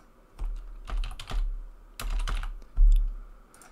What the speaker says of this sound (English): Type item info s.